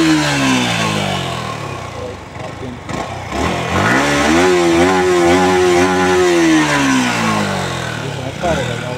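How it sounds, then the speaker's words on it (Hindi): A nearby MT motorcycle engine idles, then revs up loudly and holds a high throttle before easing back down, rumbling throughout. "ये सुनना सर, गाड़ी का साउंड सुनना"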